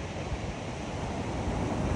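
Ocean waves breaking on a wide, clean beach in Puerto Princesa, Palawan, a continuous roaring surf wash with wind rumble on the microphone, loud and close, with no talking.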